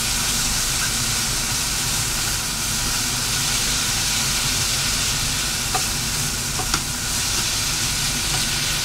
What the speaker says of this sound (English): you just want to let all that simmer